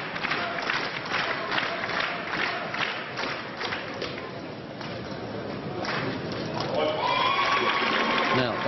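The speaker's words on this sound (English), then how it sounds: "the crowd willing her along" Badminton crowd at the Swiss Open women's final cheering and clapping a player along, a dense, steady roar of voices and applause filling the hall throughout.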